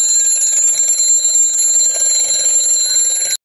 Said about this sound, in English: Oh look, my old alarm clock.